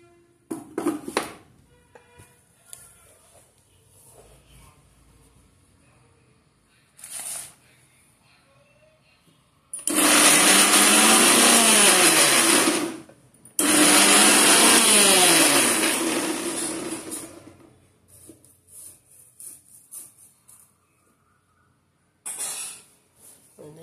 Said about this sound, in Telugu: ఇప్పుడు మిక్సీ పెడదాం.